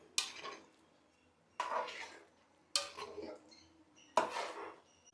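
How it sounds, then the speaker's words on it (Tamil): Mutton kozhambu gets stirred in a pot after the coconut milk goes in, four separate scraping clatters of a spoon against the pot with quiet gaps between them. "இப்போது நம்ம தேங்காய் பாலை ஊற்றினதுக்கப்புறம் நல்லா மிக்ஸ் ஆகிற மாதிரி சும்மா ஒரு 2 கிண்டுனா போதும்."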